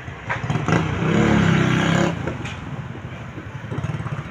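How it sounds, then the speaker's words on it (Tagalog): Roadside traffic on a Philippine street, with a motorcycle or car engine revving and swelling loud up close, then fading to a steady background rumble of passing vehicles. "Nasa tabing kalsada ako mga pare ko, kaya maingay"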